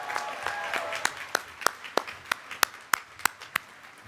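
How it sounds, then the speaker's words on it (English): A ceremony crowd claps for class marshals at a law school Class Day. Applause starts scattered and builds into a steady run of sharp, evenly spaced claps, moderately loud and close. "Please give them a round of applause."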